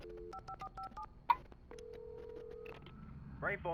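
Telephone tones in the video game Alan Wake Remastered: a quick run of short dial-style beeps, then a sharp click and a long, steady electronic tone, with a faint voice-like warble at the end, fairly quiet and clean.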